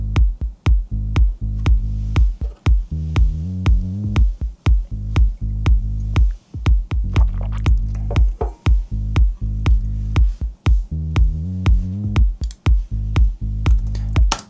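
Kicks, sub bass and low percussion from a techno track form a steady four-on-the-floor pulse. Deep, booming bass notes move between pitches under sharp, punchy hits that repeat at a driving tempo.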